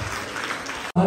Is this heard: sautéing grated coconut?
no